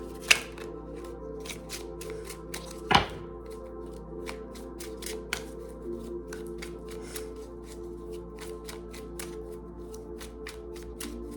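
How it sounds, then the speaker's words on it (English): Tarot cards are shuffled with a dense run of quick riffling clicks and crisp snaps close up, marked by two louder slaps early on, over a faint steady hum. "Shuffling for Gemini."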